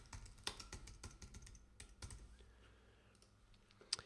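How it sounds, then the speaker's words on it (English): Computer keyboard typing comes in quick, uneven bursts of light clicking keystrokes, close and quiet, with one sharp click near the end and no talk. "I really can't type."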